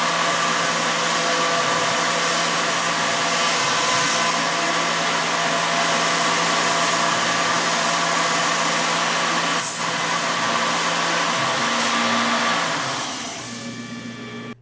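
A milling machine makes a finish pass around the contour of a metal wrist part for a T-800 endoskeleton arm: a steady loud whirring cut with tonal hum, continuing evenly before fading near the end.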